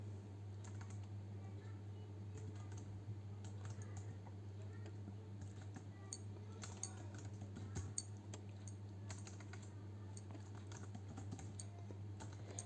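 Python code is typed on a computer keyboard in a steady stream of light, close key clicks over a constant low electrical hum, quiet overall.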